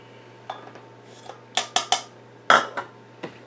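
A utensil clinks and scrapes in a bowl as brown sugar is stirred into melted butter, several sharp knocks spaced unevenly over a quiet background.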